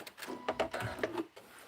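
A sewing machine stitches along the centre of a quilt-as-you-go block in a short close-up burst of quick, clattering needle strokes lasting under two seconds.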